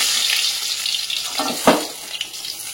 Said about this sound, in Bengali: চলো মাছগুলো এক এক করে ভেজে নিই